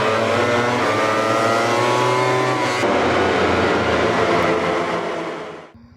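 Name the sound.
toy racing motorbike engine revving sound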